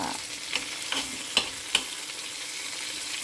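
Dosa frying with coriander on a pan gives a steady, close sizzling hiss, broken by a few sharp clicks and taps; nobody speaks.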